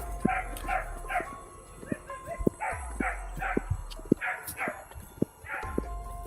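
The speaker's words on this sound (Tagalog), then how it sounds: "Bakit may aso dun?" A dog barks in a run of short, sharp yaps repeated at uneven intervals, fairly close, with some whimpering and faint background voices underneath.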